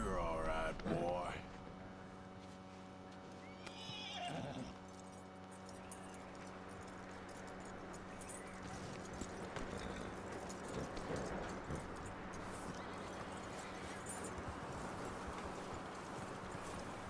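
Horse hooves clopping on the ground in Red Dead Redemption 2, with a faint whinny near the start, steady hoofbeats under a low ambient bed.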